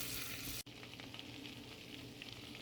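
Garlic and herb butter melting over low heat in a pan, giving a steady, soft frying sizzle with a brief break partway through, quiet and close with no voices.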